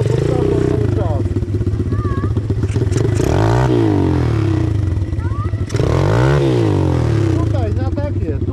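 XMOTOS motorcycle engine revving hard and continuously up close, its loud pitch climbing and falling through repeated throttle blips, with people talking over it.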